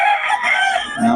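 A young gamecock stag crows once in a loud, close, raspy call that stretches over about a second, with no other sounds around it.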